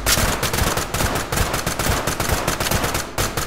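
Rapid gunfire at a shooting range in the tactical shooter game Ready or Not, loud close bursts of repeated shots in quick succession with no pauses.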